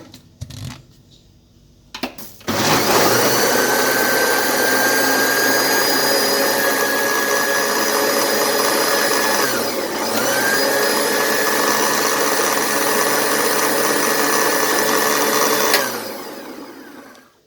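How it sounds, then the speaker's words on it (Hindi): An electric blender runs at full speed, blending peaches with water and black salt into juice. It starts with a few clicks and then gives a loud, steady whir for about thirteen seconds, dips briefly in the middle, and winds down at the end. "अब इसको अच्छे से ब्लेंड कर लेंगे।"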